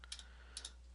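Calculator keys being pressed during a statistics calculation, two quick pairs of light, crisp clicks, close and quiet over a steady low hum.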